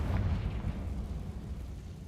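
A Confringo spell explosion in the video game Hogwarts Legacy: a deep, rumbling blast that swells at once and rolls on as a heavy low roar for about two seconds.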